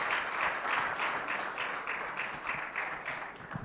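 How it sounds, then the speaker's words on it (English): An audience at a youth entrepreneurship and access-to-finance panel applauds the discussants with steady, moderately loud clapping that holds for several seconds and tapers slightly. "A big round of applause for the discussants."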